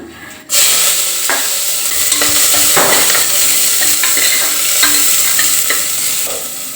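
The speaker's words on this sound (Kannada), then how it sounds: "ನೋಡಿ ಎಲ್ಲ ಸಾಸಿವೆ ಸಿಡಿತಾ ಇದೆ" Chopped onion dropped into hot oil with popping mustard seeds, a sudden loud sizzle that continues steadily with crackles and the scrape of stirring, close up.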